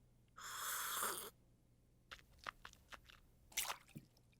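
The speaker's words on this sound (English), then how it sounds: "Swish some water around in your mouth and you're all finished." Cartoon mouth-swishing of water by a child at a dentist's office, a steady wet sloshing burst followed by scattered squishy, crunchy gurgles and drips, close and alone without talk.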